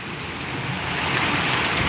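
A steady, dense hiss of heavy rain pours onto surfaces without a break during a summer shower in Adoni, Kurnool district, close and fairly loud throughout.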